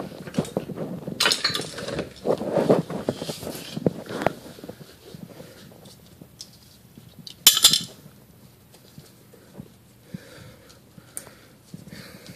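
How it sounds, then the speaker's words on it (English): Metal parts clink and clatter as a Honda Rebel CMX250C carburetor is worked loose and removed, with sparse handling knocks and a few sharper metallic chinks at close range. "Now it's removed, the carburetor can come out."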